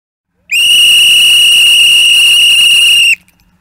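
A referee's whistle gives one long, loud, steady blast of about two and a half seconds, sounding alone and then stopping abruptly.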